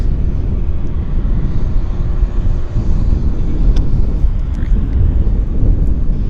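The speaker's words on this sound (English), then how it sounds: "Good looking airplane, the short Boeing." A WestJet short-body Boeing airliner at Vancouver airport, its steady low engine roar running through the whole stretch with wind buffeting the microphone, fairly close and unbroken, no one speaking.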